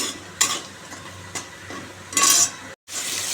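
Fish pieces frying in oil in a pan, a sizzle punctuated by metallic clinks of a spatula against the pan, with a louder burst of spitting before a brief cut to silence.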